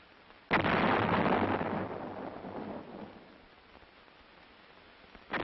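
A towed 105mm field artillery howitzer fires one loud, close boom that rolls off into a long decaying rumble, and a second shot begins at the very end.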